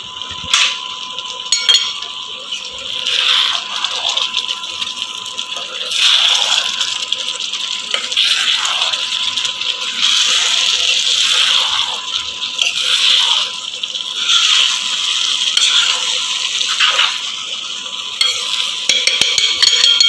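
A spoon stirs stuffed brinjal and potato curry simmering in a pot, with repeated scraping strokes and light metallic clinks over a soft bubbling sizzle, close and clear.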